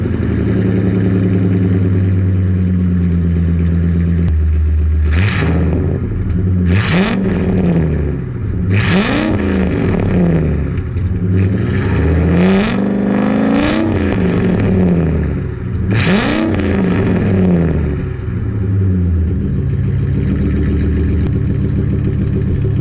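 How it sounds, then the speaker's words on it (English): A Ford F250 Super Duty pickup's engine idles steadily and is revved repeatedly, with several rising and falling revs over a continuous loud, close engine rumble. "Fire it up and see what it sounds like."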